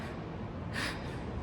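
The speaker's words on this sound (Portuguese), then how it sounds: "É uma respiração curtinha assim" A short, shallow breath, a single brief intake or exhale standing out faintly over a low steady background hum, with no talk.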